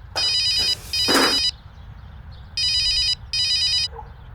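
A telephone rings in an electronic trill, two bursts, a pause, then two more, close and loud, with a brief voice between the first pair of rings.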